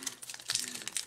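Close, quiet crinkling of plastic foil packaging as a Pokémon Sun and Moon card pack is worked open, a dense run of small rustles and crackles with no talking.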